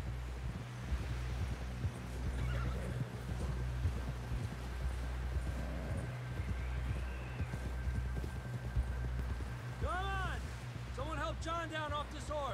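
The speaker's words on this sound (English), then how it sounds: "John down off this horse." A horse in Red Dead Redemption 2 clops along at a quick steady rhythm, hooves thudding under wind noise, with a rising whinny near the end and game characters talking over it.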